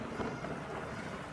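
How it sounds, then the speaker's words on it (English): Low, rumbling thunder rolls through a storm outside New York, a faint, continuous broadband roar with a hint of rain and wind mixed in. "thunder outside New York"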